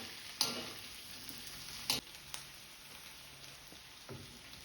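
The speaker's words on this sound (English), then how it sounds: "Then add all the veggies to kadai." Beans and other mixed vegetables tipped into a kadai and stirred for a curry: a few sharp spoon-on-metal clanks spaced a second or two apart over a faint, steady sizzle, close and quiet, with no talking.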